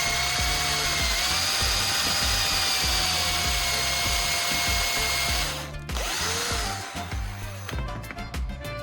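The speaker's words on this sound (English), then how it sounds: "Drill a hole straight through the center of the wooden cylinder." A power drill whines steadily at high speed, then the pitch drops and stutters as the bit drills straight through the center of a wooden cylinder, ending in uneven bursts.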